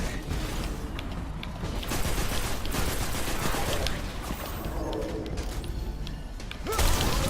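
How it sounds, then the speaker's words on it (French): Rapid energy-weapon fire from a fusion rifle in the sci-fi shooter Destiny 2, dense bursts of charged shots and mechanical clatter filling the scene, loud and continuous with a sharp new burst near the end. "C'est un fusil à fusion mec, je le sens pas là."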